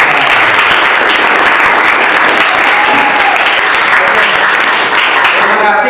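A classroom group claps loudly and continuously, a dense close burst of applause filling the whole stretch with no pause.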